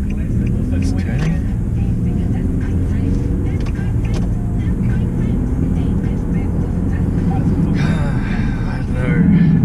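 Nissan G37 Skyline driving through an S bend, a steady low engine and road drone filling the interior, with a brief rise in revs near the end and no talk over it.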